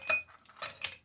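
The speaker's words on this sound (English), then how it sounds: "going to start with putting some ice into our glass" Ice cubes clink into a cocktail glass for a Dark 'n' Stormy, in two quick bright bursts of rattling a moment apart, close and fairly quiet with no talking.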